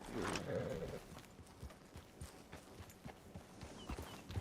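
Steady clip-clop of horse hooves at a walking pace along a trail in Red Dead Online, fairly faint, over a soft ambient background.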